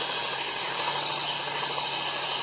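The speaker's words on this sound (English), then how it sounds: "I'm using the work sharp with the kin onion grinding attachment." Steady broadband grinding hiss of a Work Sharp sharpener with the Ken Onion grinding attachment working a Leatherman Skeletool plier, continuous and close with two brief dips in intensity.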